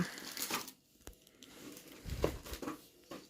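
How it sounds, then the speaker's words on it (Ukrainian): Sawdust bedding poured from a freshly opened bag into a pet cage, giving soft, quiet crinkling and pattering rustles in short bursts, close by and fairly faint. "Давай насипемо тирси туди."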